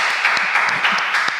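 An audience claps in a short, steady burst of applause, loud and close, with individual hand claps standing out.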